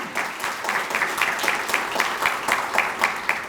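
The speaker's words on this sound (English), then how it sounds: "Let's give them a round of applause for that." Audience at a chamber of commerce lunch applauding, dense steady clapping throughout at a moderate distance.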